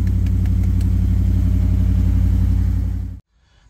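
Jeep Commander engine running loudly at a steady idle with a pulsing low rumble, then cutting off abruptly near the end into near silence.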